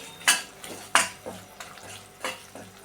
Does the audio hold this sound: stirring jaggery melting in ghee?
yes